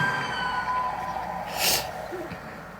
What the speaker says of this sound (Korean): 한국 경찰차가 왔습니다